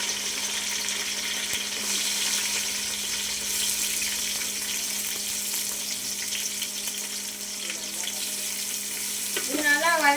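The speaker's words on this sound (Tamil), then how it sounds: "சின்ன வெங்காயம் வந்து அரைச்சி வச்சுருக்கோம் அது போடுறாங்க" Ground shallots, blended with coriander and mint, fry in a pan for a chicken and mutton curry, with a loud, steady hiss and sizzle that runs without a break and swells slightly near the end.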